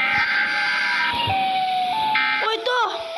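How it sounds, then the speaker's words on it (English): The Siren Head monster in a video game lets out a shrill siren wail that shifts between held tones and ends in a warbling rise and fall. A voice talks over it. "Ini siren head, bos."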